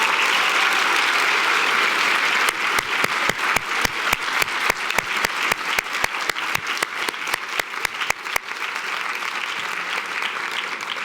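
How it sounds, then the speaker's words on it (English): An audience applauds the finalists of a university speech competition, crowd clapping that swells after a few seconds, with a run of sharp, loud individual claps close by standing out over the steady applause. "let's give one more huge round of applause before we leave the building to all of our fantastic finalists this year"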